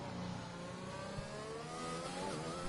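A sim-racing car in a Spanish Grand Prix league race brakes hard into turn 10, its engine note dropping through downshifts in a steady, loud drone with no talk over it.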